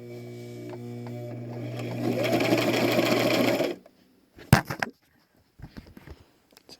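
Sewing machine stitching half-inch bias tape for mask strips, a steady close motor whir for several seconds that stops abruptly, followed by a few brief handling clicks and thumps.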